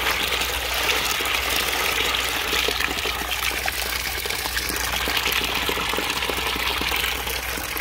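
Dirty water gushes steadily out of an aquaponics bio filter, a loud, continuous rushing pour with no breaks.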